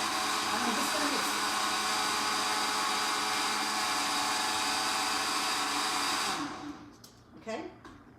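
Blender whirring steadily as it mixes a meal-replacement shake, loud and continuous for about six seconds before cutting off, followed by brief handling clatter.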